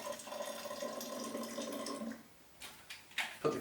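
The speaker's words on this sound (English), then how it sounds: "I just add some more of that hot water that I was using" Hot water is poured into a plastic Pinter home-brewing vessel, a steady close trickle for a couple of seconds, then breaking off into a few splashes and sloshes.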